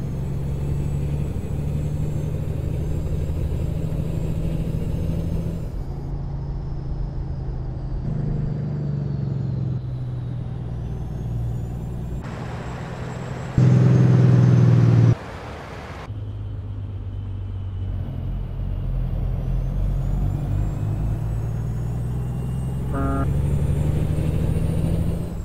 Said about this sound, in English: You guys probably noticed I changed the sound mod for the truck.